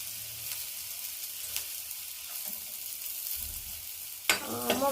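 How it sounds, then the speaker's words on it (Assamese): Dal poured into a hot tempering pan catches with a sudden loud sizzle near the end, after quiet stirring and faint frying hiss. "দালিটো ঢালি দিম"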